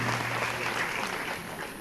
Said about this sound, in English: A big round of applause for all the three speakers.